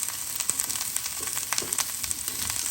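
Flatfish frying in a pan seasoned with pepper and Chinese five-spice, crackling and spitting close up with frequent sharp pops over a continuous sizzle.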